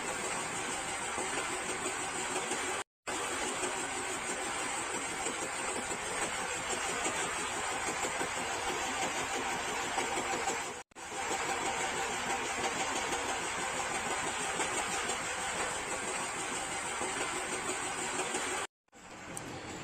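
Engine of the wooden vessel KLM Al Mukarromah 2, burning biosolar fuel, drones loud and steady inside the hull, a constant idling rumble broken twice by short dropouts, no voices.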